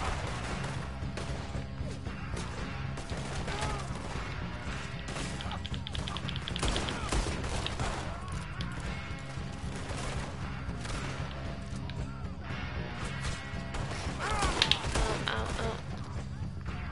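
Scattered gunfire and crashing impacts in Red Dead Redemption 2 keep going across a busy, cluttered shootout. Shots land irregularly at moderate loudness, and faint voices come and go underneath.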